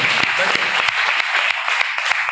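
A crowd claps steadily for a couple of seconds, a dense patter of applause with a few sharper individual claps standing out.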